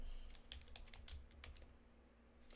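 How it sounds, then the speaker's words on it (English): Close clicks and knocks of a computer keyboard being shifted and tapped on a desk, an irregular run of sharp hits over a low hum, with no voices. "I move my keyboard around a lot."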